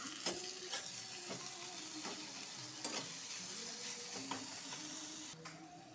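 Chopped tomato frying in a pan with garlic, ginger and chopped chili for a tarka, a steady sizzle broken by sharp stirring clicks and scrapes, with no talking.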